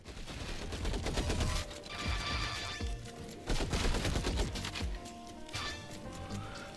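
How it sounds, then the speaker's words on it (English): Guns fire in the video game Junkster, loud repeated bursts of rapid shots broken by short pauses, close and with nothing else over them. "Now I got guns."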